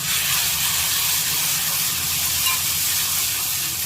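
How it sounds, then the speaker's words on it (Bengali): Spice paste of ground poppy seed and tomato paste frying in a pan, a continuous close, even sizzle and hiss with a low rumble beneath, no voices. "এবার আমি পোস্ত বাটাটা দিয়ে দিচ্ছি। মশলাটা একটু ভালো করে কষিয়ে নিতে হবে।"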